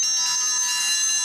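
A NOOIE Cam Pro security camera's alarm siren blares a shrill, high-pitched electronic tone continuously and loudly, with no speech.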